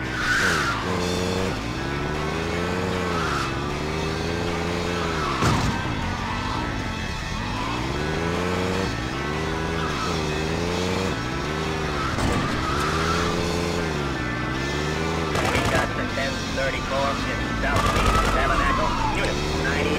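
A bus driven in GTA 2, its engine note revving up and down in repeated swells, with tire skids and squeals throughout.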